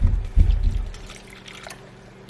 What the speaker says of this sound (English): but I'm just gonna pour some water in here.